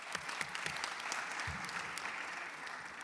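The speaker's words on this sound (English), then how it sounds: "A round of applause for Elaine." Audience applause at the ZeroCon23 conference on development funding agencies and donor organisations, a steady round of clapping from a crowd lasting the whole stretch at moderate loudness, with no talking over it.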